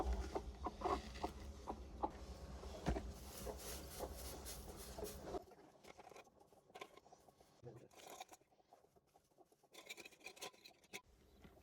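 A hen clucks as she is set onto a clutch of eggs in a freshly cleaned cage lined with dry bedding on a goat farm. Loud, busy farm noise fills the first half, then the clucks continue more sparsely in quieter surroundings.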